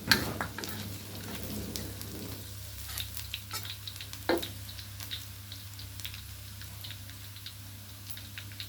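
Garlic frying in a pan for naem fried rice, a soft, steady sizzle and crackle with occasional spatula taps and scrapes, close but quiet, with no voices.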